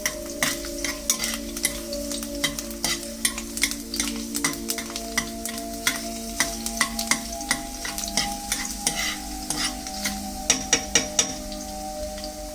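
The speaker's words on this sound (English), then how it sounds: "now put the garlic first and fry it a little bit" Garlic fries in hot oil with a continuous soft sizzle broken by frequent crisp stirring clicks and scrapes of a utensil in the pan, close and moderately quiet.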